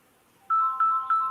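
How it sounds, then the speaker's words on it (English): Mobile phone ringtone goes off during a talk on self-mastery, three bright repeated electronic tone bursts starting abruptly after a short quiet stretch, loud and close with no speech over it. "my phone was not in silence"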